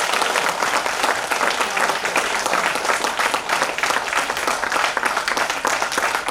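Audience applause fills a corporate nutrition company meeting, a dense, steady wash of many hands clapping at once, loud and sustained without a break.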